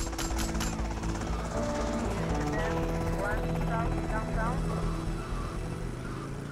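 Helicopter in the video game GTA Vice City, a steady rotor chop beneath someone talking, with gunfire bursts at the start and game sounds mixed in.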